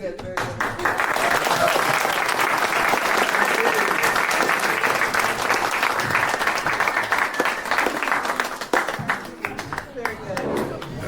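A school audience at a coding showcase event applauds a presentation, with sustained dense clapping and some cheering voices that carry on steadily for about ten seconds before thinning slightly at the end.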